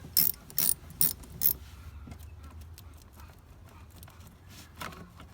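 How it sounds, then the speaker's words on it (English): A tool loosens the positive battery cable terminal on a Toyota 4Runner, with four quick, sharp ratcheting clicks up close followed by quiet rustling and low background noise. "And then we'll take the positive cable off."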